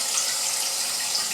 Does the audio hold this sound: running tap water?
yes